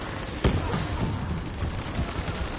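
Sentry turret gunfire in Call of Duty Black Ops 3, a sharp loud shot followed by a dense, continuous rattle of distant automatic fire and battle noise.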